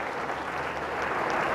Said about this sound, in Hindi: गुरुजी के लिए भी जोरदार ताली बजा दो एक बार